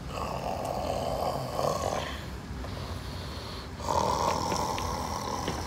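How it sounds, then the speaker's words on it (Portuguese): A person snoring in rough, rasping breaths, with two drawn-out snores separated by a quieter inhale, heard up close with no talking. "Eu conheço esse ronco, pô."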